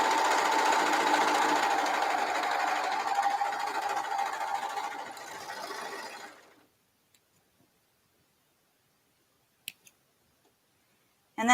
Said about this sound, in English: And then I sew all the bodies together.